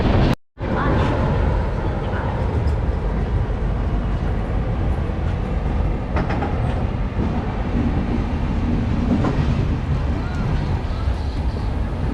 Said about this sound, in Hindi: चलिए जी, ट्रेन अपनी पहुंच चुकी है कानपुर जंक्शन।